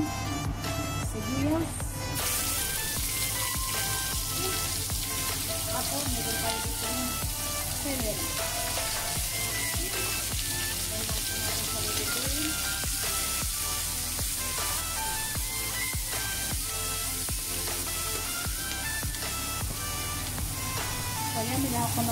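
Onions frying in the pan used to cook the meat, a steady, loud sizzle with crackling running throughout under a voice talking.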